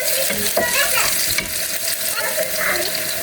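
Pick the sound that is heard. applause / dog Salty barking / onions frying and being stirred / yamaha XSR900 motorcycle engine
onions frying and being stirred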